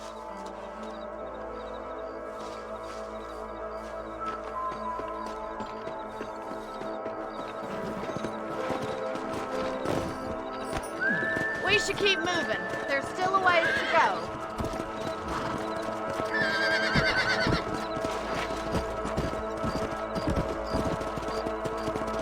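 Steady clip-clop of horse hooves trotting, with a short whinny partway through, under someone speaking briefly, in the video game Red Dead Redemption.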